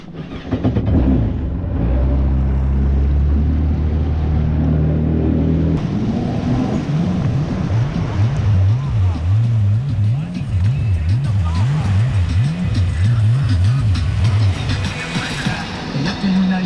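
Jet skis run on open water off Marco Island, Florida, their engines droning loudly and rising and falling in repeated revving surges, with wind and water noise throughout and no one speaking.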